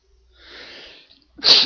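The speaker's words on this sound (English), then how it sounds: "I unexpectedly sneezed" A single sudden sneeze from one person, loud and close, preceded by a soft breathy inhale and a short pause.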